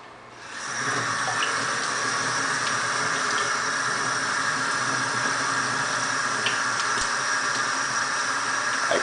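Tap water runs steadily through a kitchen strainer at a garage sink while saguaro cactus seeds are washed, a continuous close hiss and splash after a brief quieter start, with no talking.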